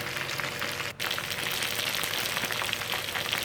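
Chicken necks frying in hot oil for adobo give a steady, dense crackling sizzle that continues throughout, broken only by a brief dropout early on.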